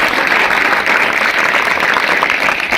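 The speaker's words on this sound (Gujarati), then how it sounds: "એના માટે આપણે એક વખત જોરદાર એ તાળીઓથી એમનું સન્માન કરીએ" Loud, steady applause from an audience at a weekend English class gathering, dense continuous clapping from a crowd that holds evenly for about three seconds and then stops abruptly.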